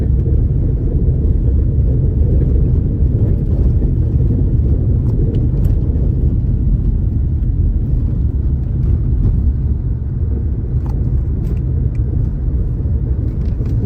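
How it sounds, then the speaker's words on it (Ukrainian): Deep, continuous rumbling of combine harvesters threshing nearby while trucks wait to load, steady and loud throughout, with faint clicks and no voices. "машини стоять на погрузку комбайни молотять, машини в очереді"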